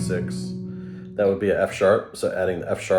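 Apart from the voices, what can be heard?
No everyday noises stand out.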